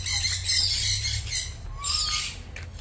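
Harsh squawking parrot calls in short bursts, close and loud, with a faint whistle between them.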